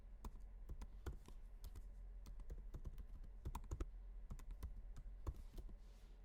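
Someone types on a computer keyboard, a quiet, uneven run of sharp key taps with short pauses, close by in an otherwise still room.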